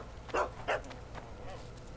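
A dog in The Witcher 2 video game gives two short, sharp barks close together, followed by quieter ambient game sound.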